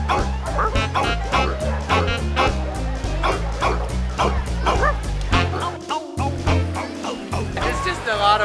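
Many dogs bark, yip and whimper at a dog swimming event, a busy outdoor city tradition, with overlapping barks close by throughout and people talking underneath.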